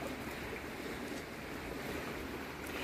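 Calm sea washing onto the shore at Lloret de Mar, Spain, on a quiet evening, a soft continuous surf hiss with faint wind, steady and fairly distant.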